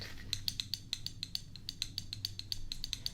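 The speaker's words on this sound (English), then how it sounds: "You gotta hear the clicking sound to make sure it's locked." A rapid series of small, bright metallic clicks and clinks from a locking climbing carabiner, close by and fairly quiet, repeating unevenly over a low background hum.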